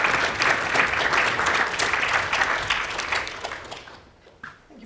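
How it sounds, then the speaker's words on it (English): Audience applause at a TEDx event, a dense sustained wash of clapping that fills most of the moment before fading out near the end. "So a round of applause for Damien, please."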